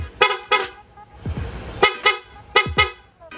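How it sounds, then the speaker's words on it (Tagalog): A Honda Click V3 scooter's loud horn honks in short, sharp blasts, several quick pairs in a row, close by, with brief engine rumble between them. "Sir, pa-activate naman ng loud horn."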